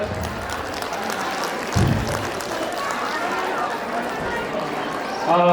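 An audience claps at a Char Bhanjyang Tamu Samaj community gathering in Pokhara, a dense, sustained patter of many hands at moderate distance, with crowd murmur and voices mixed in.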